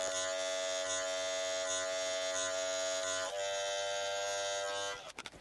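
Wahl electric hair clippers cutting a fade, a loud steady close-up buzz with the lever being adjusted, the tone dipping slightly partway through before the motor cuts off with a few clicks.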